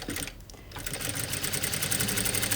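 A sewing machine stitches firm fabric in rapid, even mechanical chatter that runs loud and close through the whole moment, with only a brief pause near the start.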